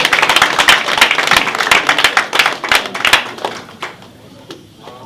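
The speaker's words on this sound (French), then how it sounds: "j'appelle sous vos acclamations" Audience applause at an investiture ceremony: dense, sustained clapping from a crowd, loud and close for several seconds, then thinning out to a few scattered claps as it fades toward the end.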